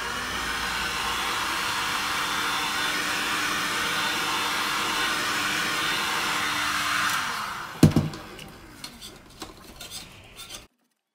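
Hot air blower heating the back of a resin painting, a steady, loud whooshing roar for about seven seconds, then cut off and followed by scraping and clinking.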